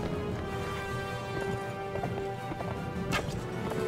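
Horse hooves galloping in the fantasy game Mount & Blade: Warband, a steady dense patter of clip-clop beats running continuously through the whole stretch at moderate loudness, with no talk.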